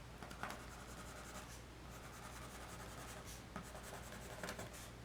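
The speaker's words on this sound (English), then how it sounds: "draw on the extra seam allowance where I cut it out" A pen or marker drawing a seam allowance onto a paper towel pattern taped down on a surface, a soft, steady scratchy rubbing with brief strokes, quiet and close, with no talk.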